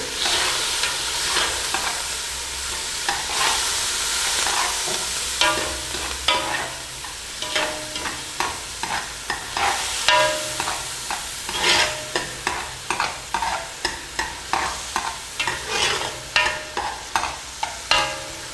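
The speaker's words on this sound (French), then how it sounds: "On va essayer de mijoter les oignons. Il faut que ça cuise un peu." Onions simmering and sizzling in a pan, stirred repeatedly so a steady sizzle is broken by rhythmic scraping strokes that grow quicker and more regular toward the end, close and clear with no talking.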